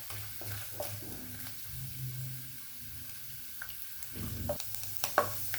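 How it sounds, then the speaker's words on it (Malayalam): Grated coconut with mustard seeds sautéing in oil over a medium flame, a soft steady sizzle with occasional sharp crackles and stirring clinks growing busier toward the end. "നമുക്കൊരു ലൈറ്റ് ബ്രൗൺ കളർ ആവുന്നിടം വരെ ഇങ്ങനെ വഴറ്റിയെടുക്കാം."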